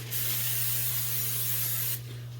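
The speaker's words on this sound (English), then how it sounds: "So by spraying, it's going to just help keep the parchment paper sealed onto the pan." A can of cooking spray hisses onto a parchment-lined sheet pan in one steady burst of about two seconds, close and fairly loud, over a low background hum.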